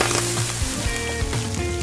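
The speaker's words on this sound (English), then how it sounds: "And melt them in our frying pan." Gummy bears melt in a frying pan in a cartoonish video game, a bright crackling sizzle under layered tonal game sound effects, continuous and close for a brief moment.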